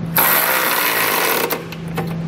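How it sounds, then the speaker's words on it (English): A socket tool runs a continuous mechanical whir for about two seconds as it tightens a 19 mm nut on a Curt trailer hitch receiver fitted to a 2022 Subaru Forester. It sounds loud and close. "I'll grab a different size socket and get that one snug down too."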